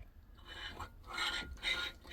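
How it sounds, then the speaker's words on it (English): Bolts are nipped up on the gearbox rear cover of a Reliant Robin, giving a short, close, rasping ratchet-like scrape in two or three quick bursts. "Just got to nip up the bolts."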